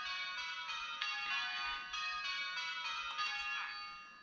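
Simulated church bells ringing in the Virtual Belfry PC simulator, a continuous stream of overlapping bell strikes in steady rhythm, moderately loud and sustained throughout with no talking.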